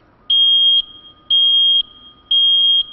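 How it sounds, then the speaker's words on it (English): Battery-operated carbon monoxide detector sounding its alarm: three loud, evenly spaced high-pitched beeps, each about half a second long, close and alone with only a faint background hum. "Warning, carbon monoxide."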